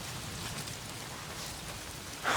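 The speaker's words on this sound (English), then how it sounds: "Oh, damn rain." Steady rain falls in the Days Gone video game, a dense even hiss running throughout with a brighter patter swelling near the end.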